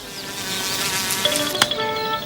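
A cartoon bee buzzes in a steady, high-pitched drone that holds for a couple of seconds with a brief sharp accent near the end.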